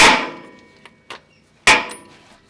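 A wrench on a transmission fill bung gives two sharp metallic clanks close by that ring down, with a couple of faint small taps in between.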